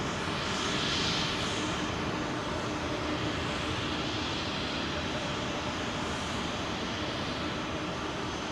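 An Etihad airliner at London Heathrow gives off a continuous, fairly loud engine roar with a hissing edge that fades slightly after the first seconds, with no talk over it.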